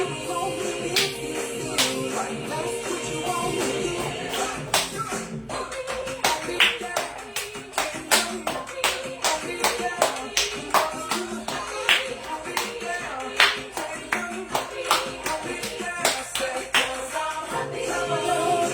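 Group clapping along to a song played with music, sharp rhythmic claps keeping a steady beat over the track, loud and close, with singing voices mixed in.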